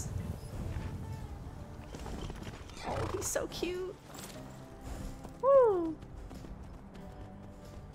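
A horse in Skyrim Anniversary Edition clops its hooves steadily near a farm and lets out one clear whinny partway through, while someone talks cheerfully over the scene.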